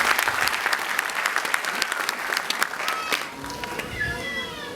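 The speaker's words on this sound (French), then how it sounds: "je vais vous demander de vous applaudir pour ça" An audience at an awards show breaks into loud, dense applause that holds steady, then thins out toward the end as brief voices come through.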